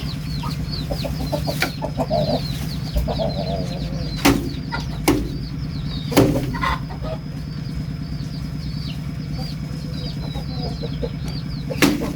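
Chickens cluck steadily in a rural setting, with repeated clucks, a few sharper squawks and brief bursts of wing flapping nearby.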